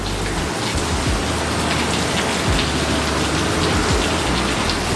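Heavy rain during a storm at LaGuardia airport pours down steadily and loudly as a dense, constant hiss, with low rumbles underneath and no voices.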